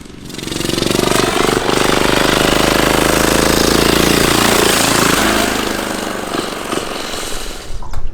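A turbo diesel racing go-kart engine drones loudly and steadily on a track during a warm-up lap, close by, its pitch holding through the pass before easing and sputtering slightly toward the end.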